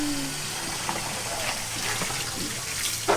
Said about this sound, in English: I'm trying to wash the clothes.